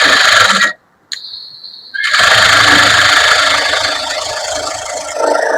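After a brief pause, an electric sewing machine stitches the lining of a blouse with a loud, steady, close-up motor whir and a rattling hum.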